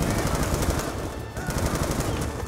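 Sustained rapid automatic gunfire in Call of Duty Black Ops 2, a dense rattling stream of shots with a brief dip midway, loud and continuous over roughly two and a half seconds.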